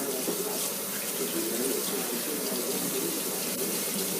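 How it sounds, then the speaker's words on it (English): Water pours steadily from a kitchen tap for rinsing, a constant close hiss and splash with no break. "Rinse it."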